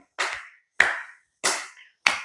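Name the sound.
hand clapping as an exercise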